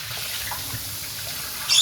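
Water poured through and drained off a potted orchid at its first watering, carrying dust with it; a steady soft trickle and splash continues throughout, close and fairly quiet, with a brief louder gush at the very end.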